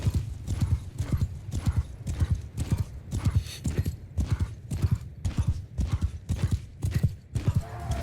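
A horse gallops at full speed in the video game Mount & Blade II Bannerlord, its hooves pounding in a fast, steady, driving rhythm that stays loud and close from start to finish.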